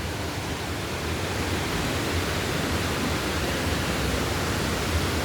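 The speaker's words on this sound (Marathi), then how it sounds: "इकडं पण धबधबा आपण पाहू शकतो" Waterfall at Dhutpapeshwar temple in Rajapur, Konkan, a dense, even roar of falling water that fills the whole stretch without pause or voices.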